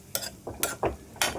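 A spoon stirring chickpea curry in a pan, four distinct scraping strokes in quick succession with a soft simmering bubble between them, close and clear with no talking.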